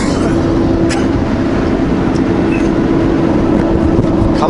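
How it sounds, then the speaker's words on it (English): A heavy truck with a Cummins engine brake holds a steady, loud low drone with a constant mid hum while descending Kootenay Pass on a mountain grade, towing a heavy load, with no talk over it. "Cummins have the best engine brakes, I hear. I'm starting to believe it."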